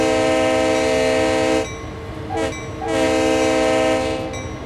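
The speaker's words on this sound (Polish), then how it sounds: "ta lokomotywa ma naprawdę bardzo fajnie zrobiony makrofon, czyli praktycznie tą charakterystyczną trąbkę właśnie sygnału ostrzegawczego" SD40 diesel locomotive warning horn from the Clinchfield Railroad in the Train Sim World 5 video game, two loud, sustained chord blasts separated by a short gap, with a low rumble underneath.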